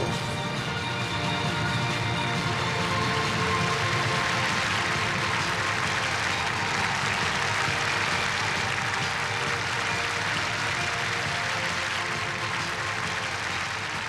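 A crowd at a Jean-Charles de Castelbajac fashion show breaks into dense, sustained applause, a thick wash of clapping that holds steady throughout.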